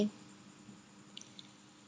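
Half-boiled potatoes, cooked in salted water for a packet chicken biryani, lifted out before deep frying, with a few faint, soft drips and squishy taps close by over a quiet kitchen background.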